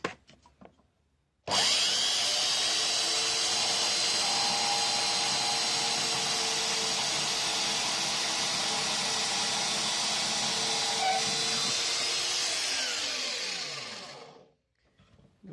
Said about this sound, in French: Donc j'utilise pour ça la petite scie à ruban.